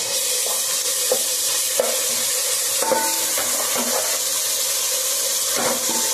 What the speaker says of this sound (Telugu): ఉల్లిపాయలతో పాటు ఇదిగోండి ఈ విధంగా అయితే వేగుతూ ఉన్నాయి కదా.